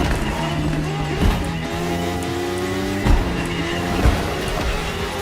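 A Ducati Panigale motorcycle ridden through a dark, gritty city in The Crew Motorfest, its engine a steady sustained drone with a few sharp louder bursts, no speech.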